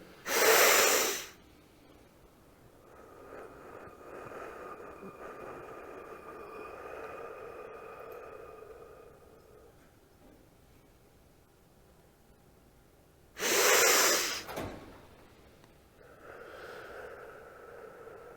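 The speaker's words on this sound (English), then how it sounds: "And then hold your breath with empty lungs. And go ahead and do that a couple of times. So breathe in again." Two loud, sharp breaths about twelve seconds apart, with faint quieter breathing and a soft hum between them, during a breathing exercise done alongside vision training for shooters.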